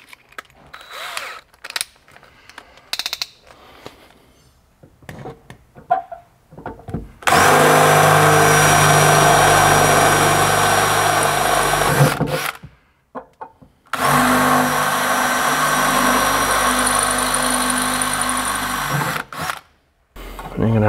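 A power drill enlarges a hole in a VW T3 camper van in two loud, close bursts of about five seconds each, with quiet pauses between them. Scattered handling noises and brief speech come before the bursts.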